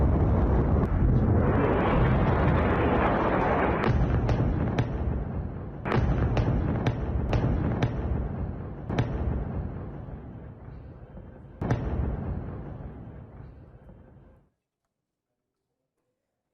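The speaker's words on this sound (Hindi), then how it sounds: "खुर्द आतंकी ठिकानों पर भीषण बमबारी की गई।" Heavy bombardment on Kurdish militant positions, a dense roaring rumble of explosions with sharp distant cracks and booms scattered throughout, loud and continuous before fading out near the end, no talk.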